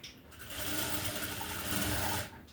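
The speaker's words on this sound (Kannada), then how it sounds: "ಹೊಲಿಗೆನ ಹಾಕ್ಕೊತಾ ಬರೋಣ" A sewing machine stitches a blouse side seam in one steady, fast whirring run of rapid needle strokes lasting about two seconds, starting and stopping cleanly with no voices.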